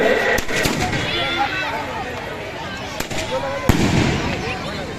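Repeated booming fireworks bursts and crackles, some sharp reports standing out, over a crowd of voices talking nearby, at a Sharad Purnima festival in Jawad, Neemuch district, India.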